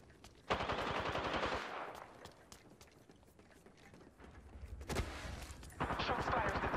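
Automatic gunfire rattles in a shooter video game, two loud rapid bursts of rhythmic shots separated by quieter scattered single shots, close by, with a voice briefly heard in between.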